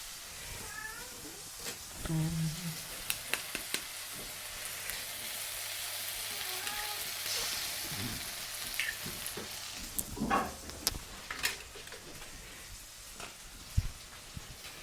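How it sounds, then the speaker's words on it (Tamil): An egg sizzles in a pan during a late-night pasta cook, with intermittent scraping and stirring clatter close by, steady frying hiss underneath, and brief bursts of louder utensil knocks. "ஒரு எக்கு வந்து உடைச்சாச்சு. இப்போ அப்படியே கிளறி விட்டு கொண்டுதான்."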